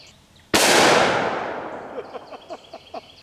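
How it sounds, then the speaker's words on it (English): Single .357 Magnum shot from a Smith & Wesson 686 with a 4-inch barrel, firing Underwood 158-grain jacketed hollow points into a transparent shield, a sharp loud crack with a long ringing decay and small clatters afterward. "I have a Smith & Wesson model 686 with a 4-inch barrel, and I'm going to be using some Underwood ammo, 158 grain jacketed hollow points."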